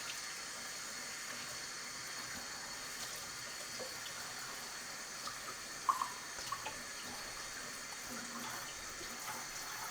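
Fresh coriander washed under a running kitchen tap, a steady moderate stream of water with a few small splashes and light handling sounds partway through.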